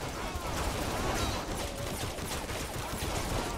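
Dense, continuous gunfire from the video game Saints Row: The Third, with rapid overlapping shots forming a loud, steady barrage for the whole stretch.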